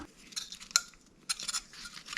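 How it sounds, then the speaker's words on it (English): Drain cleaner solution being stirred in a container to strip anodization from a part, giving a few light clinks and scraping strokes, one sharp tap standing out, close and fairly quiet with no talking. "Give that a stir."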